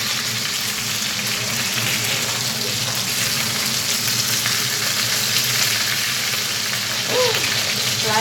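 Chicken pieces for braised five spice chicken fry in a crowded pan, hissing and crackling with dense, steady sizzle and spatter close by, with a faint clink near the end.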